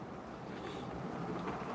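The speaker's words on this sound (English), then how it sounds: "We got a windy Malta today." Steady wind buffets the microphone with a broad, constant rushing roar, fairly soft and unbroken throughout, on a windy day in Malta.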